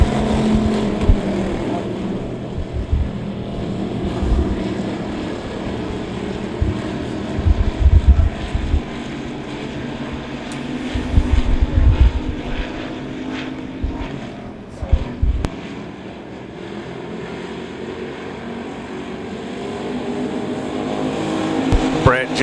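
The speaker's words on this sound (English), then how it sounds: "Here we go, green flag. First of 3 heat races for your factory stocks." Factory stock cars roaring around Devil's Bowl Speedway in a heat race, a steady engine drone rising and falling as the pack passes, with an announcer talking over the noise.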